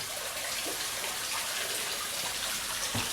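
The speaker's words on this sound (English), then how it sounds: "the serenity of the water dropping again." Water drops and trickles steadily beside a private patio at a house in Mullins, St Peter, Barbados, a continuous soft splashing hiss with no voices.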